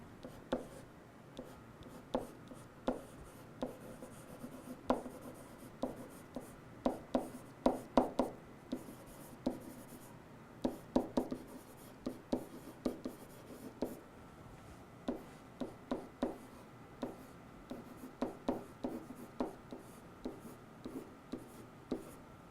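Pen or pencil writing by hand on paper while sketching a technical architectural floor plan: faint, close scratching strokes in irregular short bursts, with quiet pauses between, no talking.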